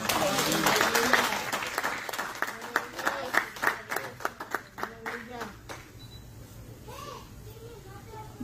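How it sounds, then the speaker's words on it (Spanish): A church congregation applauds, a dense wash of clapping for the first several seconds that thins into scattered claps, with voices talking over it before it fades to quieter room sound. "Den un aplauso al Señor, hermano."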